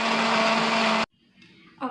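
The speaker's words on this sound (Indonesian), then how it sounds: "Kemudian kita blender hingga halus." An electric blender grinds chili, shallots and garlic for sambal, a loud, steady whirring roar that cuts off abruptly and is followed by quiet rattling.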